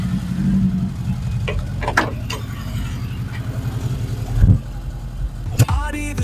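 A Vauxhall Chevette engine with head gasket trouble idles at operating temperature with a steady low rumble, punctuated by a few clicks and knocks nearby.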